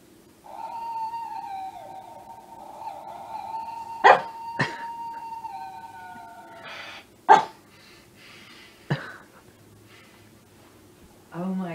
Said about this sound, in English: He's got the world's best bark.